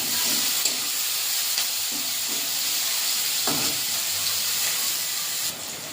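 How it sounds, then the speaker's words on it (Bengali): Chopped onion frying in a pan during a village-style cooking session, a steady close sizzle and hiss with occasional soft stirring bumps, no voices. "পেঁয়াজটা ভাজা ভাজা করে নিয়েছি।"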